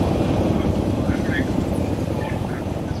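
A helicopter in the Arma 3 video game flies low under the radar with a steady, close rotor and engine drone, while a person talks over it.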